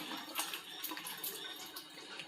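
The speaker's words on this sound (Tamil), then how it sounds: "தேவையான அளவு தண்ணி ஊற்றிக்கலாம்." Water is poured into a simmering masala puri gravy of mashed peas and potatoes, giving a soft, steady hiss and trickle that lasts a couple of seconds without speech.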